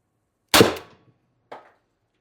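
A TR50 Torpedo CO2 air gun tuned with a 36g CO2 cartridge fires a 12.7mm ball bearing: one sharp, loud report that decays over a quarter second, followed a second later by a fainter short echo or impact, with no talk.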